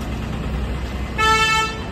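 A car horn toots once, a steady honk lasting about half a second over a low rumble of road traffic.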